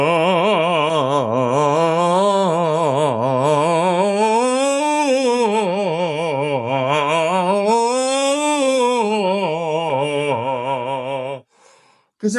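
A singer performs the Caruso scale exercise, a continuous sustained vowel rising and falling in smooth arcs of pitch with vibrato, loud and close throughout, ending with a quick breath.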